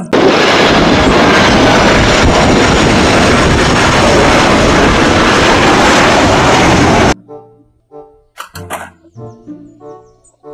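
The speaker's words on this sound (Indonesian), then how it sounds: "pesawat terbang." A toy airplane makes a loud, steady roaring whoosh like a jet engine for about seven seconds, then stops suddenly, leaving short clicks and electronic bleeps.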